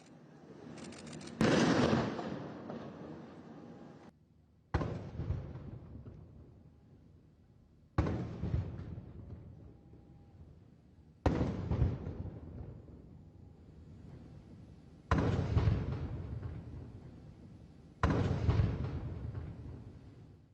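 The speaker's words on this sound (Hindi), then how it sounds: "आज पीएम मोदी को 21 तोपों की सलामी दी गई।" A 21-gun artillery salute for PM Modi in the Maldives booms in six spaced cannon blasts, each a sharp loud crack followed by a long decaying echo.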